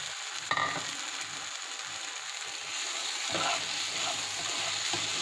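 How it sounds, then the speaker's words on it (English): A masala for Maggi masala pasta cooks in a pan as Maggi seasoning powder is stirred in. It makes a soft, steady sizzle with a sharp utensil knock near the start and light scraping stirs. "my masala is ready and I'm going to add this Maggi powder into this."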